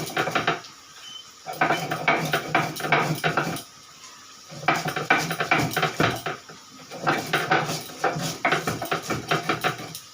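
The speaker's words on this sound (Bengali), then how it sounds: "মশলাটাকে আমি শিলে বেটে নেব, গুঁড়ো করে নেব ভাজা মশলা।" Roasted spices being ground on a stone slab with a stone, heard as three long bursts of rhythmic scraping and gritty knocking strokes separated by short quiet breaks.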